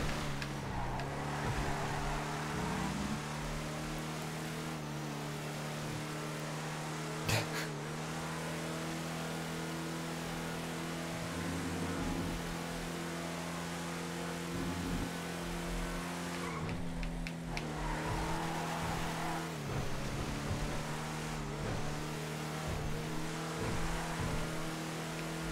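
Racing truck engines roar continuously in a GTA FiveM race, with steady droning harmonics, revving shifts and brief tire skids throughout, loud and close.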